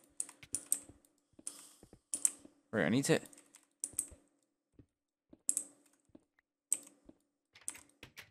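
Computer keyboard typing in bursts of rapid clicks during a gaming session, with someone talking between the clusters and one louder, denser burst of noise midway.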